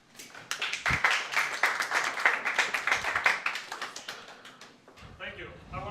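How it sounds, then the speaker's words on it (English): Meetup audience giving a round of applause, a moderate cluster of individual hand claps with distinct rhythmic peaks, tapering off near the end as a voice begins speaking. "round of applause"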